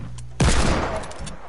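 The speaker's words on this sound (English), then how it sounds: "Shots." Gunshots erupt abruptly as a loud, close burst of rapid fire that rolls on with echoing reports and crackle, with no voices under it.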